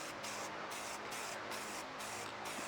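A steady, loud hiss of water sprayed from a nozzle onto fins, with a pulsing, rhythmic wash, close by and continuous throughout.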